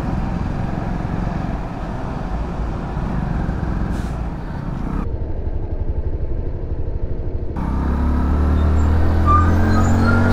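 A motorcycle rides along through a crowded street, a steady engine drone with passing traffic around it, rising in loudness near the end, with no talk over it.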